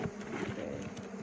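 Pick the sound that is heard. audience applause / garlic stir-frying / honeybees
honeybees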